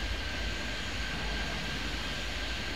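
Airplanes arriving in the airport game Airport Madness 3D give off a steady, faint jet engine drone with a continuous whooshing hum and no talk.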